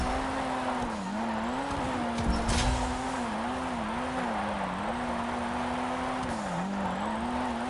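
A video game car engine drones steadily with rising and falling revs, a continuous mechanical whine that swells and dips in waves at a race starting line; no voices.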